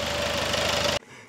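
A steady, rumbling diesel engine of a Skoda Octavia 2.0 TDI vRS (184 hp), warmed up, idles with a rhythmic low knock, then cuts off abruptly near the end, leaving a faint quiet tail.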